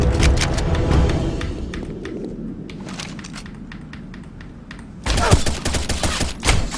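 Rapid bursts of gunfire from the Sudden Attack online shooter game, sharp repeated shots in clusters with a louder volley near the end, mixed with some faint talk.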